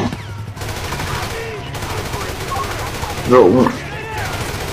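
Video game gunfire with rapid bursts of shots through a magazine, rattling across the clip with a louder cluster near the end, while people talk over it.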